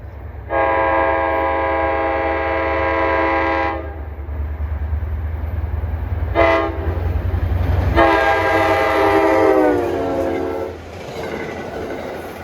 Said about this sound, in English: Those are impressive trains through here.